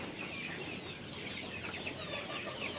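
Free-range KUB chickens cluck softly inside a long row of coops, a continuous faint murmur of several birds with no talk.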